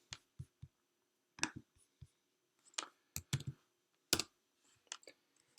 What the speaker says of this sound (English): Let me just type the name of the object we created, deaths.